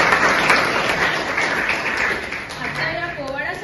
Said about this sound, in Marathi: भीमराव खत्रे यांच्या या सादरीकरणाबद्दल जोरदार टाळ्या वाजवून